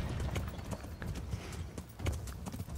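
Horse hooves gallop in the medieval RPG Kingdom Come: Deliverance, a rapid steady clip-clop of hoofbeats close by, with faint tack jingle and no talking.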